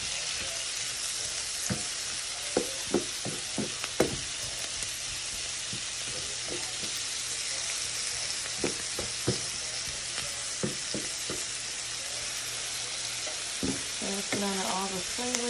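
Brussels sprouts frying in a pan, cooked like cabbage, with a steady close sizzle broken by irregular clicks and scrapes of stirring throughout.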